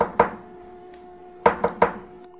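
Knocking on the wooden front door of a house: two sharp raps, a pause of over a second, then three quick raps, close and distinct against near silence.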